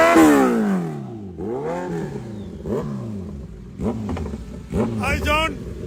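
Suzuki Hayabusa motorcycle engine revving repeatedly, with rising and falling pitch sweeps in several bursts, fairly close, with voices talking over it.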